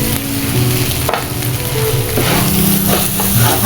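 Spice paste sautéing with rice for hilsa pulao, a steady close sizzle and frying hiss with light stirring scrapes, loud and continuous with no talk.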